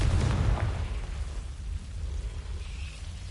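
A Confringo fire spell blasts in Hogwarts Legacy, a loud low explosive burst at the start that rumbles and fades into a steady low background.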